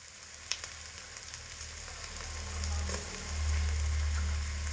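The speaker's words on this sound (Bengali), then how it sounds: "আঁচে রেখে ভালো করে সমস্ত কাঁচা সবজিগুলো এখানে কষিয়ে নিয়েছি" Chopped raw vegetables and onion sizzle steadily in hot oil in a pan, a close, continuous hiss with a few light stirring knocks and a low hum of the stove flame beneath.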